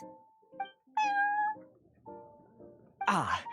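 A cat meowing at a cat café in the video game Genshin Impact: a series of short, clear meows of varying pitch, close and fairly loud, ending in a longer, harsher yowl.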